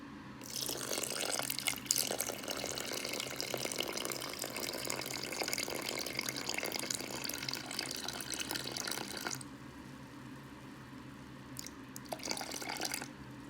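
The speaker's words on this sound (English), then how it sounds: "then pour in 342 grams of water." Water pouring from a container into flour for a sourdough starter, a steady continuous splashing stream for about nine seconds that cuts off, followed by brief quieter trickles, close and alone without talk.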